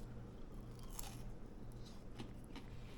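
Crisp crunching bites into deep-fried battered shrimp tempura, close and fairly quiet, a few irregular crackly crunches over a low steady background hum.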